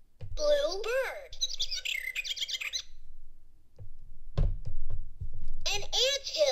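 Electronic bird chirps and tweets from a LeapFrog talking toy book, bright warbling calls in short bursts at the start and again at the end, with a knock and a spoken voice in between.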